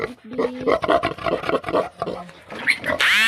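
Piglets on a farm squeal and grunt in quick, irregular bursts at close range, with a person talking among them.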